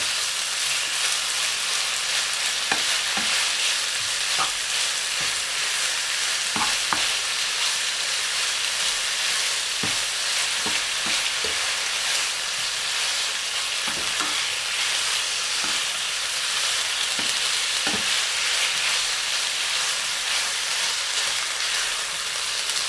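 Pork and vegetables stir-fried in very hot oil: a loud, continuous close-up sizzle with scattered light scrapes and taps of a utensil, and no talking.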